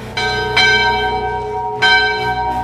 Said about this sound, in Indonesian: menendang-nendang lonceng yang sangat besar di sana